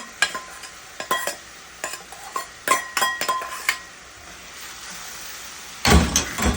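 Mushrooms being added and stirred into a pan with cooking salmon for cauliflower rice, giving repeated close clinks and scrapes of utensil on pan, with a burst of louder sizzling and clatter near the end.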